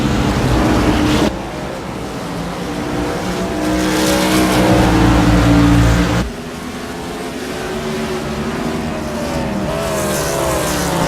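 Race cars lapping Road America in the iRacing sim roar past with loud, sustained engine drones that rise and shift in pitch, a sharp cut midway as one car passes and another takes over, tire noise mixed in.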